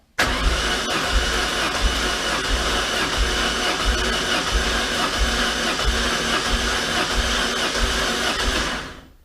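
A car engine cranks steadily on the starter during a cylinder compression test, a rhythmic, evenly paced chug repeating about ten times before it cuts off, loud and close.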